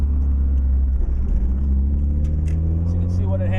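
A 1994 Mazda Miata drives onto a twisty road, its engine a steady low rumble with road noise throughout, rising slightly in pitch near the end as it accelerates.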